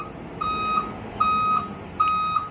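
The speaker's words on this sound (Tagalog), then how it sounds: "Ang ingay naman itong truck." A truck's reversing alarm sounds three evenly spaced steady beeps, each lasting about a third of a second, moderately loud over a low background hum, with no talk.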